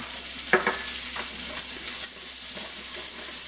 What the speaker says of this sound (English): So I'm going to go ahead and add my onions and my garlic to that.